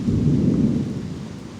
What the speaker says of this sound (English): although I do hear thunder